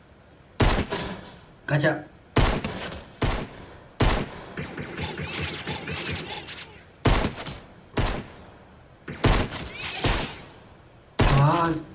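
Repeated bursts of gunfire from Fortnite Chapter 2 Season 1 aimed at stormtroopers, sharp loud shots spaced across the clip with a sustained rattling volley in the middle, and a player's voice briefly speaking between them.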